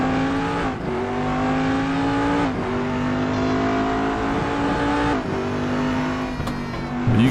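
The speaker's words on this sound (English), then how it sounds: "you can get a sense of the speed of the P2 here around Daytona in Raceroom" P2 prototype race car lapping Daytona in the RaceRoom racing game, a loud high-revving engine climbing through gears with quick shift drops, heard steadily and up close.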